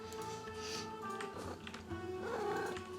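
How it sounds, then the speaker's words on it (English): A pet cat purring right into the microphone, a continuous low rumble with a couple of faint meow-like sounds. "And my cat is purring in the microphone"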